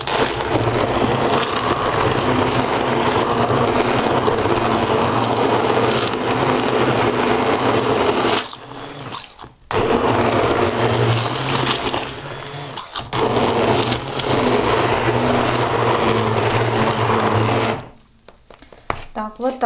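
A blender whips small garlic cloves into a paste, a loud continuous motor whine running close for long stretches, stopping briefly twice and cutting out near the end.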